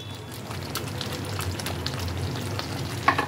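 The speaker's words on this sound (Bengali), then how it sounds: "আবারও একবার ভালোভাবে এটাকে নেড়ে দিচ্ছি।" Paneer kali mirch in a white gravy bubbles and sizzles in a pan while being stirred, a continuous close frying hiss with a sharper clink near the end.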